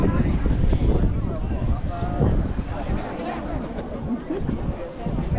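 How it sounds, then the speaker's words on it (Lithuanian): Gusty, cold wind buffets the microphone with low rumbling roar while voices talk in the background, outdoors in Beijing near Tiananmen Square and the Forbidden City; continuous and close. "bet šaltas vėjas"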